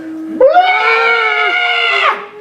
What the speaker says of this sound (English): I want you to scream out at the top of your lungs, something like this.